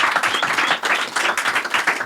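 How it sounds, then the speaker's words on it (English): A short burst of dense applause from a small group in a podcast studio, steady clapping throughout about two seconds with no talk over it. "Round of applause for that."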